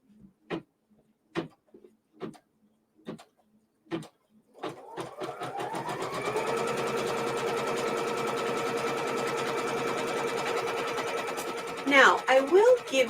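An embroidery sewing machine stitches yellow quilting fabric directly onto stabilizer, starting after several sharp clicks and taps, then running in a steady rapid whir for about seven seconds before stopping with a few mechanical clunks.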